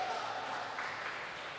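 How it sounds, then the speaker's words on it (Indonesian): Applause at a gondang festival and fourth-anniversary celebration in North Sumatra: a faint, steady wash of clapping from an audience, continuous throughout without clear individual claps standing out. "abang saya, Sabam Manalu, tepuk tangan untuk beliau"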